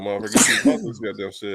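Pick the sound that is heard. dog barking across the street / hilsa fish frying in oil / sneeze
sneeze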